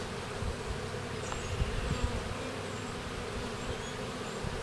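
A honey bee swarm buzzes steadily in thick grass, a dense, even hum that holds at a constant level throughout with a few slightly louder passing bees.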